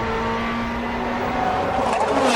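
GT race cars running three wide down the main straight at the 2008 FIA GT round in Bucharest, a loud steady engine roar with revving rising toward the end.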